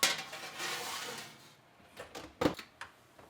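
A metal baking tray of homemade meat-and-cheese dog treats slides into a home oven, a rush of noise followed by a few sharp clattering clunks and knocks, close by.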